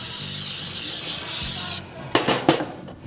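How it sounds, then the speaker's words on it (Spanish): A cooking spray can hisses steadily for almost two seconds as a bread container is greased, then cuts off, followed by a few sharp knocks and handling sounds close by. "Nosotros hacemos este spray, usted lo puede hacer con mantequilla o aceite para que no se pegue"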